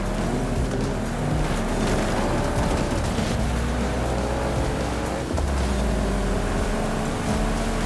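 A 2013 Volvo C30 Polestar in Forza Horizon 5 drifts through a turn during a race, its engine roaring loudly and steadily with tire noise beneath, and the revs dip briefly before climbing again.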